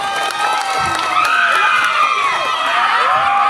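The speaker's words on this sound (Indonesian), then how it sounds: "tepuk tangan dong untuk Jelain." An audience at a Balinese Bondres comedy stage show, held in a village for a youth group's 44th anniversary, cheers and whoops loudly for a performer named Jelain, a dense continuous crowd roar with shouting voices throughout.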